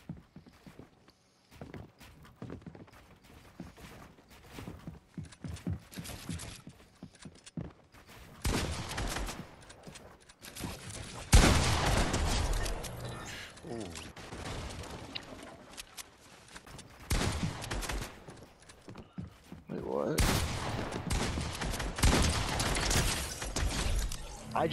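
Pump shotgun blasts in a Fortnite 1v1 build fight, several loud bursts scattered among footsteps, building clatter and other game effects, with bursts of louder action near the middle and end.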